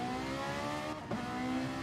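Race car engines rev steadily at the start of a race, a loud, continuous droning hum with a brief dip before the revs build again.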